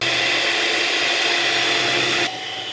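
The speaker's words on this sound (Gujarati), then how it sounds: "બધું જ મિક્સ કરી દીધા પછી ફરી પાછું આપણે એકવાર બીટ કરીશું." An electric beater whips a cream mixture for homemade creamy ice cream, giving a steady, loud motor whir that holds constant and then drops slightly in pitch near the end, with no talking.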